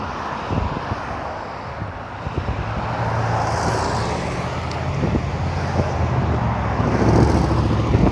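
Steady road traffic rumble with low engine drone and wind noise throughout, heard while riding a Civia Venue hybrid bicycle, gradually growing a bit louder toward the end.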